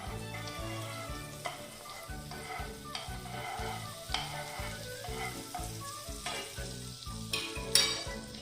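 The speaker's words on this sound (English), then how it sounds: "We will heat a pan and add some butter in it." Butter sizzles and fries steadily in a heated pan, with a loud, continuous crackle broken by rhythmic low knocks of stirring or the pan shifting on the stove, and a sharper clatter near the end.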